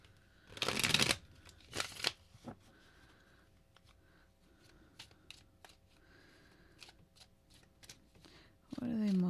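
Tarot cards are bent back and riffled in a pick-a-card reading: two loud, quick shuffling bursts near the start, then soft scattered taps and card handling, with a fresh rustle at the very end.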